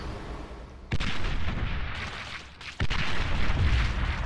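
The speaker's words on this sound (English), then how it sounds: "we might be able to artillery bombard them" Artillery bombardment in the real-time strategy game Beyond All Reason: two heavy booming blasts about two seconds apart, each followed by a sustained rumbling roar of continuing fire, loud and close with no voices.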